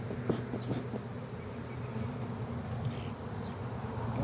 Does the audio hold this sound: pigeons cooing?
no